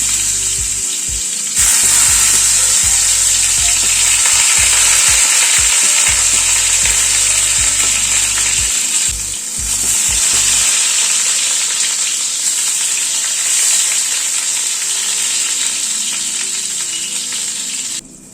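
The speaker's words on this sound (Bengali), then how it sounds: "পটলগুলো ভেজে নিলাম, হালকা লালচে করে পটলগুলোকে ভেজে নিলাম।" Pointed gourd (potol) pieces fry in mustard oil in a kadai over a gas flame, making a loud, dense, continuous sizzle and crackle close up, easing slightly near the end.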